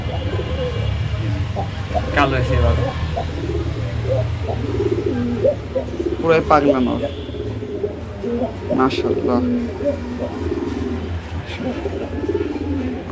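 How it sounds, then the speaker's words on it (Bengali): Lakkha pigeons, two females among them, coo in repeated throaty rolls close by, with scattered chirps from budgerigars and someone talking over the birds. "দুটা লক্ষাও মাদি কবুতর"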